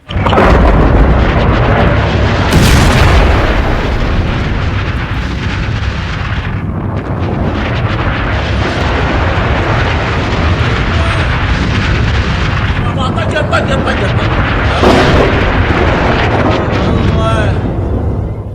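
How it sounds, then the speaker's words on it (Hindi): Missile explosions boom over Baghdad as an air defense system fires to intercept incoming missiles. Several heavy, loud blasts stand out against a continuous dense rumble, with voices talking throughout. "बगदाद में जब ईरानी मिसाइल आसमान में थी तो अमेरिका के डिफेंस सिस्टम ने मिसाइल दागी है इंटरसेप्ट करने के लिए"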